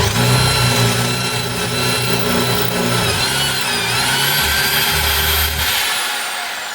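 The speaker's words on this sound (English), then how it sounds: "now I'm gonna drill it with the 1/4-inch drill bit, which is the final size for the stainless steel pin." A power drill with a 1/4-inch bit bores a hole for a stainless steel pin while mounting a roll bar, producing a steady, loud motor whine that holds for several seconds and fades at the end.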